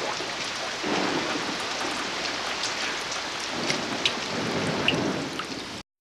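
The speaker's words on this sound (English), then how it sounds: "the beginning of a torrential downpour which was to continue 24 hours a day during our stay at Clear Lake" A torrential downpour at Clear Lake pours down as dense, constant rain, with soft rolls of thunder rising and fading under the steady hiss before it cuts off abruptly.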